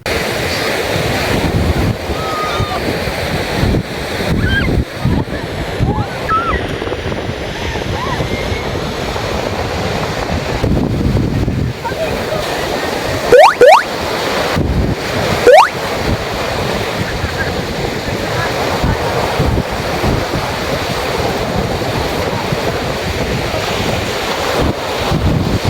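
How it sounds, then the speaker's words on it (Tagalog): Sea waves wash steadily onto a gray sand beach at Infanta, Quezon, a continuous loud surf roar with heavy wind buffeting the microphone throughout. "sobrang sarap sa pakiramdam pag nakakarinig ka ng alon ng dagat"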